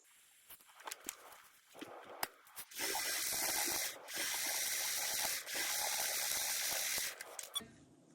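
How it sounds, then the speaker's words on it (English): A sewing machine stitches the final seam of a rolled pillowcase, a steady motor whir in two long runs with a brief pause between, preceded by a few light taps and handling noises. "I'm going to sew my last line and then I am all done."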